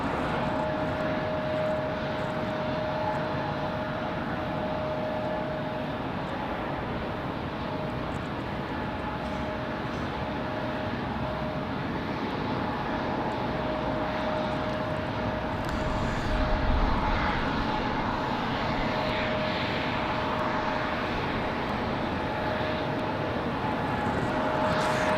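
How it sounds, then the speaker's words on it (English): A Delta airliner departing Raleigh-Durham airport gives a steady, broad engine roar that holds evenly at moderate distance, with a faint tonal whine running through it and no talk. "Got a Delta departure"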